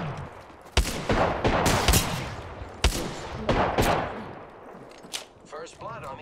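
Rapid pistol shots from an Apex Legends match crack out in a loud, irregular burst of sharp reports, with short pauses between volleys and game effects trailing off.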